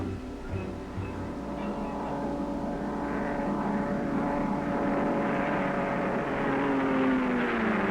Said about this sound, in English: Watch the Austin Healey creep up on the shadow of the camera plane overhead.